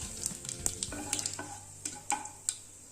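Mustard seeds, cumin, cinnamon and cloves hit hot oil, making a faint, soft sizzle broken by scattered sharp pops and ticks, heard up close.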